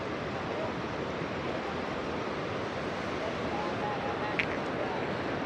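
Broad steady wash of ocean surf on the beach at Digha during low tide with the sea far out, a continuous rushing roar with some wind across the microphone, no distinct breaking wave.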